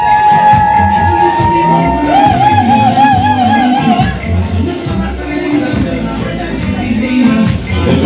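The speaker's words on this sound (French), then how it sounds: "on les encourage avec les acclamations s'il vous plaît" Wedding guests cheering and whooping together as a crowd, a steady mass of voices and shouts over the whole stretch, loud and close, with music-like tones threading through.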